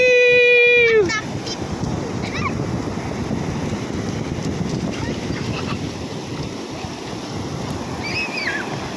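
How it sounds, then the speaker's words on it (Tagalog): Ocean waves surging around a moving boat, a loud, continuous wash of water and wind noise, with people calling out and cheering over it. "Grabe ang alon, oh."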